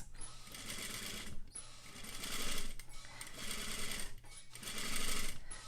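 Sewing machine stitching a curved quarter-inch seam in short controlled bursts, four loud runs of rapid needle chatter separated by brief pauses as the fabric is turned.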